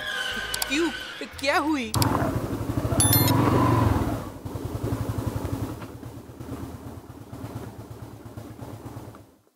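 A motorcycle rides along and pulls up at an office parking spot, its engine rumbling and clattering steadily at moderate loudness before easing down, with a rider talking over it.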